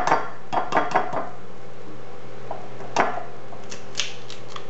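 Two large eggs cracked one after another for pumpkin bread batter, sharp close taps and shell clicks against a bowl edge, then a quieter pause before a final crisp crack.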